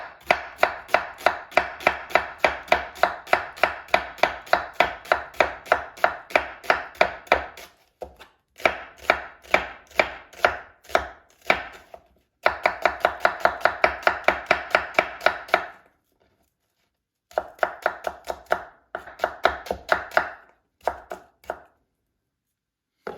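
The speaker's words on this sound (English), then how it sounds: "you need to cut into very thin slices" A knife cuts food into very thin slices on a board, producing rapid, steady chopping taps at close range. The taps come in long runs broken by short pauses, and no one speaks.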